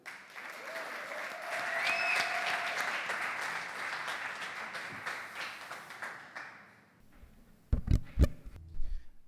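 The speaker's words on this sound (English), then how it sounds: "please, a warm round of applause." Warm applause from a live poetry and song audience greeting a performer, dense clapping with a few whistles that swells, then fades over about seven seconds, followed by a few guitar-like plucks and taps.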